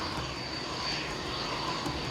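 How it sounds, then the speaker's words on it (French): Two Mirage fighter jets returning to a military airbase during Operation Barkhane, a continuous engine roar with a high whine, moderately loud and steady, no talking. "les 2 Mirages qui ont été ravitaillés par l'avion de Julia sont de retour de leur dernière mission"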